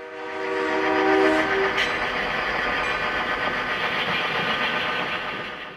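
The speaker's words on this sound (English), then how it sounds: "we catch the Jeep 35 as it blasts out of the tunnel." CP Rail freight train with a Jeep 35 bursting out of a tunnel in West Summerlin, a horn blast at the start, then a loud, sustained roar of engine and wagons rolling close by.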